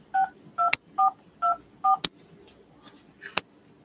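Telephone keypad tones sound while dialing to call in: five evenly spaced, clear beeps, followed by a few sharp clicks on the line.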